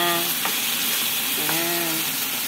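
Seasoned chicken frying in a pan, a loud continuous sizzle with two brief scraping stirs of a utensil partway through and no speech over it.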